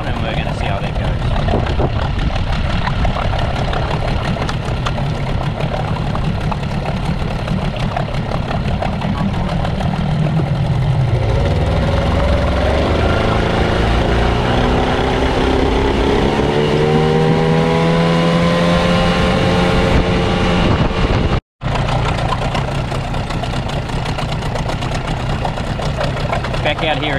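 A small Mercury 9.9 outboard motor with a standard propeller drones steadily, its pitch climbing and wavering as the boat gets under way, with a brief dropout near the end.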